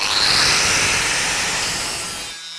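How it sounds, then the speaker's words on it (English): Abrasive grinding of a weld on metal, a steady loud continuous rasping whir held under very light pressure, close by and alone, cutting off abruptly at the end. "just going to do a quick grind on this one"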